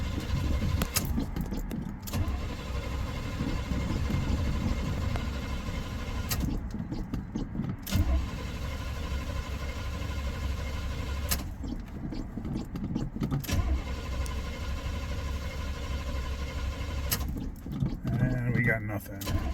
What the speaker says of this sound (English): These older vehicles, you don't want to crank the snot out of them because you can overheat the starters pretty easy.